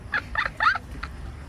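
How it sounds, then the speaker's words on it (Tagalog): A few short clucking calls from a chicken, somewhat distant over a low background rumble, lasting just over a second. "Uy, pati manok nandyan na."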